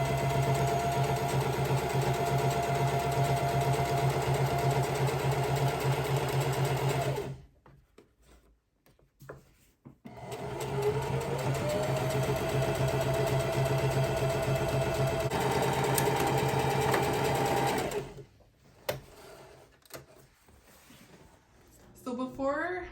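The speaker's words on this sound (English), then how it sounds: "If you run over your pins with your sewing machine, you might break your needle" A sewing machine stitches ribbons onto a ribbon skirt with a steady, close mechanical whir. The run stops twice for a few seconds before it starts again, and a voice can be heard with it.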